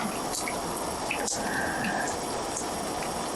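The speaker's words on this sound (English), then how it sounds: "Where it's dripping away." Water drips from a melting icicle hanging over the edge of outdoor stairs in cold weather, heard as a steady wet trickle with a few light drops over faint background noise.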